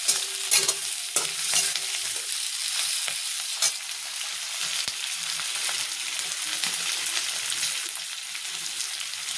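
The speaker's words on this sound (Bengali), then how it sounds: "লাল লাল মানে কিছু ভাজা ভাজা হোক" Chopped onions, capsicum and green chilli fry in a pan, giving a steady crackling sizzle with occasional scrapes and clinks of stirring, close and alone without talk.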